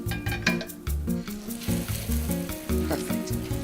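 Breadcrumb-coated food, dipped in egg and seasoned dry breadcrumbs, sizzles steadily as it fries in a pan, close and moderately loud with a few clinks and stirring sounds.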